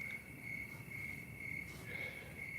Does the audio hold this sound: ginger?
no